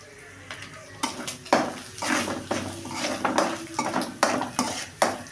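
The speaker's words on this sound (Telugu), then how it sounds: "మొత్తం కలబెట్టుకోవాలి." A utensil stirs noodles with spices in a pan, making a run of near, repeated scraping and clinking strikes against the metal in an uneven rhythm, with a faint sizzle underneath.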